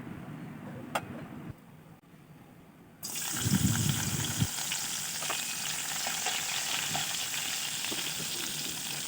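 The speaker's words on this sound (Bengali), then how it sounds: "নিয়ে নিলাম একটা কড়াইয়া, এর মধ্যে দিয়ে দিব সামান্য একটু তেল, এর মধ্যে দিয়ে দিব আমি চিংড়ির শুটকি" Dried shrimp hit hot oil in a kadai, bursting into a loud sizzle after a quiet start and then settling into a steady, close crackling fry for the rest.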